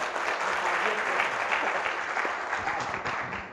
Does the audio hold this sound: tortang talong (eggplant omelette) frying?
no